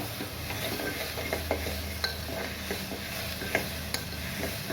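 Green chili, ginger and garlic sauté in a pan for a chickpea usal breakfast, a steady crackling sizzle with a few sharp clinks of the spoon against the pan, close and fairly quiet.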